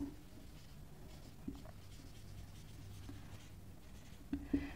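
Faint, soft scratching of writing during a lecture on the plant cell wall, steady and quiet under low room noise, ending in a couple of sharper taps near the end.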